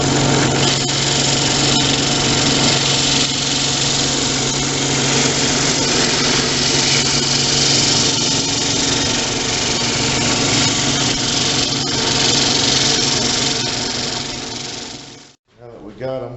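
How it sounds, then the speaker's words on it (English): A drill press sanding the edge of a wooden piece for a roll-top bread box, a loud continuous motor whine with a grinding rasp that runs steadily and then cuts off near the end. "I'm going to take my drill press and go ahead and sand that edge"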